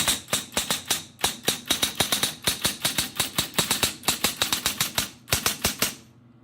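Keys of a Smith-Corona Cornet Automatic 12 electric typewriter strike in quick, sharp clacks, about thirty crisp close hits in uneven bursts with brief pauses, over a faint motor hum that continues after the typing stops.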